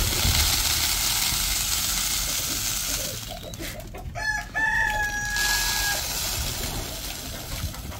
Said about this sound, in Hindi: बाहर देखें मुर्गियों का रश लग चुका है